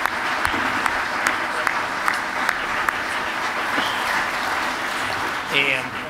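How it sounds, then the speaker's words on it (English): Conference audience applauding soldiers, sustained crowd clapping with a few sharper individual claps standing out, steady and fairly loud, with a brief voice near the end. "I would like us to give them a round of applause, a big hand indeed"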